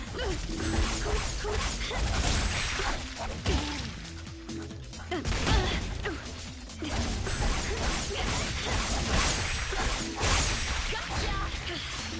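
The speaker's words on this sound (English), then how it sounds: "what is up with these dogs?" Dogs barking and yipping during combat in Oneechanbara Origin, scattered sharp barks over a busy mix of clashing, crashing impacts and mechanical clatter, with brief voices in between.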